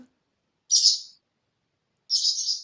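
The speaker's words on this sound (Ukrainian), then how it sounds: "Так співають ластівки." Swallow singing: two short, bright, high-pitched twittering bursts separated by about a second of silence, close and clear with no other sounds.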